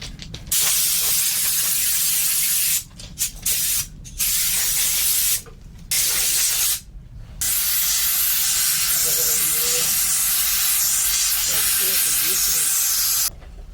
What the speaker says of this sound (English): Put it on your air chuck. Crank up your compressor